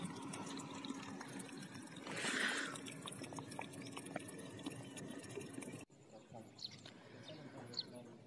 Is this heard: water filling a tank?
yes